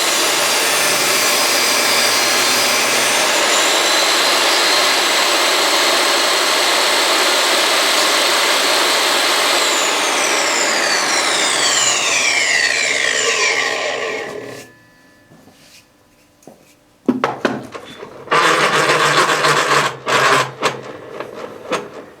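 A belt grinder runs steadily at high, loud volume while grinding a knife bevel, then winds down and stops with a fading whine, followed by quieter clatter and intermittent bursts of handling noise.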